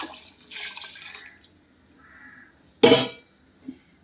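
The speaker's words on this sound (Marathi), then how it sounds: "जे आता आपण गरम केलेलं होतं पाणी ते आपण आता याच्यात हळूहळू टाकणार आहोत." Hot water poured into a pan of sautéed peas and rice, giving soft dripping and trickling sounds, then a sharp louder splash and a brief clink near the end, all fairly quiet.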